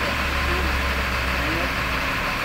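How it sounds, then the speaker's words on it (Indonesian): The diesel engine of an ALS 227 intercity bus idles while warming up, a steady, loud, low rumble that runs unbroken through the clip with no talk over it. "Mulai dipanasi ya mesin ALS 227 ya."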